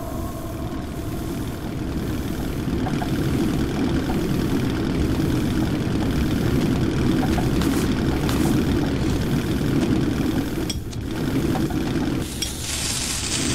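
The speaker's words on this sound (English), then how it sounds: "I thought I heard an engine." Engine in the Metro 2033 video game gives a steady loud droning rumble that runs throughout, with a few sharp clanks and a hissing burst near the end.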